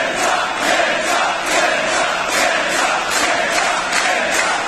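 Wrestling crowd at a NOAH tag team match roaring steadily for KENTA, a dense, loud, sustained wash of cheering and shouting with rhythmic swells of chanting and no commentary over it.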